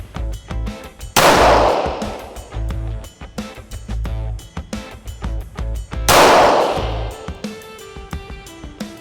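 Gunfire at a Sunday firing-range practice: loud, sharp shots in an irregular series, two of them especially heavy and booming, ringing out with metallic echoes and no talk.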